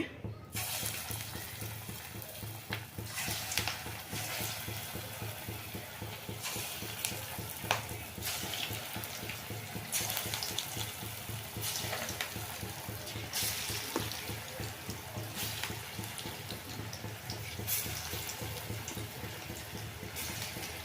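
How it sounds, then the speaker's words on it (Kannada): Vada batter is dropped bonda-style into hot oil and fries with a continuous, dense sizzle and bubbling. The sound stays close and steady throughout, with no voices. "ಇಲ್ಲಿ ಎಣ್ಣೆ ಕಾದಿದೆ ನಾನು ಈಗಾಗ ಒಂದೊಂದೇ ಒಂದೊಂದೇ ಬೋಂಡ ರೀತಿನಲ್ಲಿ ಬಿಟ್ಕೊಳ್ತೀನಿ"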